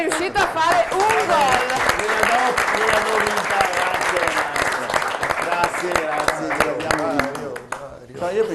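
A studio audience applauds steadily for a goal scored by Dario, with dense, sustained clapping over speech that fades near the end.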